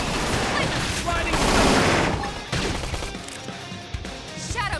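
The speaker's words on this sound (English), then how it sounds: "Topple him with some gunfire." Bursts of rapid gunfire in the Xenoblade Chronicles X video game mix with blasts, crashes and dense battle effects, loud and continuous, while a voice calls out over the action.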